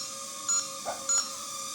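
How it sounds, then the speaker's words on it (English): Low-voltage alarm on a Cheerson CX-10A mini quadcopter: two short electronic beeps about half a second apart, fairly clear over a steady background hum. "You have an LVC alarm when the LEDs are flashing"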